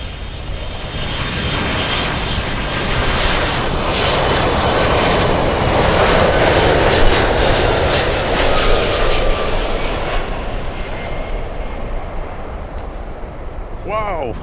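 A cargo plane, a 767, lands at Miami International Airport in stormy conditions with a loud, close, sustained jet engine roar that builds to a peak midway and then eases off, without talk.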